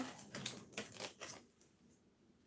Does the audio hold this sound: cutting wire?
yes